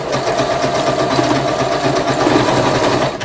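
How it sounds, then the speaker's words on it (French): A sewing machine runs continuously at close range, stitching a zigzag seam on a hair volumizer piece, its fast mechanical whir steady and loud with no talking. "Je fais le point zigzag."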